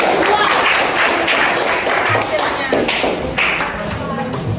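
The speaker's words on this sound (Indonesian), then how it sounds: "Tepuk tangan buat kelompok" A classroom full of students applauding after a group presentation, a dense, steady clatter of many hands clapping throughout.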